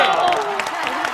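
A studio audience on a Chinese TV variety show applauds the Chinese diving team after a word-guessing round. The clapping is brief and steady, with a faint tonal sound mixed in.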